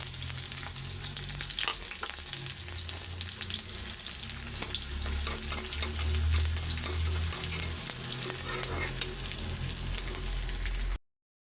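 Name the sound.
frying leftover rice with onion, garlic and dried chilli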